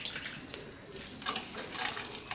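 Water pouring and splashing as washed poha is drained into another vessel in a kitchen, irregular trickles and spatters, fairly faint with no talking.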